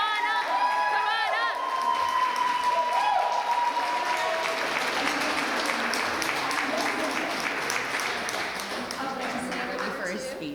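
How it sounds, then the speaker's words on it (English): Applause from a large audience greets the first honoree at a women's awards ceremony. Dense, sustained clapping is mixed with crowd noise and some cheering, and voices talk over it before it slowly tapers toward the end. "please, everyone, a giant round of applause for our first honoree, Michelle Benson"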